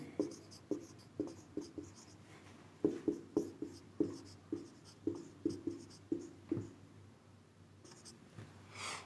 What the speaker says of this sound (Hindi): यहां 2 नंबर लिखता हूं।